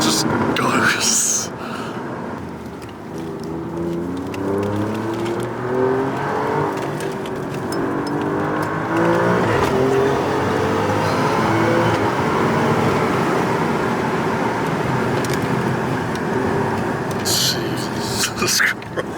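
An Alfa Romeo Giulia QV on Pilot Sport 4S tyres accelerates from inside the cabin, its engine note climbing in rising sweeps and dropping at gear changes, with people talking over it.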